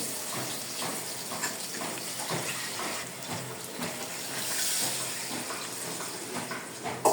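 Water poured into a cooking pot in a home kitchen, a steady running splash at moderate level throughout with a few faint clinks.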